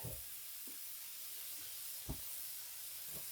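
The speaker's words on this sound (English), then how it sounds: "We'll let these onions continue to simmer" Onions simmering in a hot pan, a soft continuous sizzle and steam hiss with a few faint clicks and taps, quiet and close.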